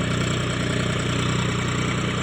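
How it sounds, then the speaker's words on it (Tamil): A farm tractor idles steadily with a rotavator fitted for tilling a field, giving a continuous low, even rumble with faint mechanical vibration and no talking. "இது எங்களோட டிராக்டர் தாங்க"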